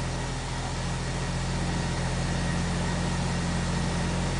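A 1947 International Harvester KB-1 panel truck idles cold, its engine giving a steady low rumble with an even hum, close and constant, no voices over it.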